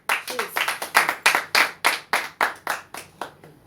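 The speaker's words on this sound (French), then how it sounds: "Acclame très fort le Seigneur" A church congregation claps in acclaim of the Lord during a sermon, a run of about fourteen sharp, fairly even hand claps in a quick, slightly irregular rhythm, close and loud, with no voices over them.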